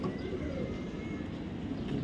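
Red checker racing pigeons cooing softly and continuously at close range amid steady low background noise.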